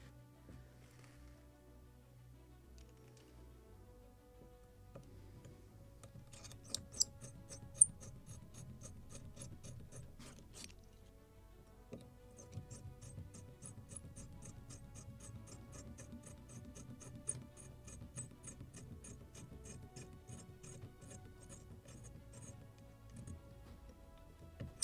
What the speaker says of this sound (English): And let's drill them.